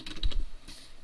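A few quick keystrokes on a computer keyboard, close and clicky, in a short burst followed by quieter tapping.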